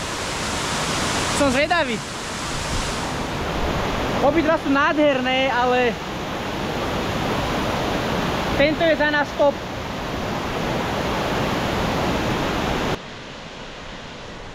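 The largest waterfall on Bali pours with a constant, broad roar close by, while people talk over it in several short bursts before the rush carries on alone.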